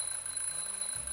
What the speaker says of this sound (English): just testing the smoke detector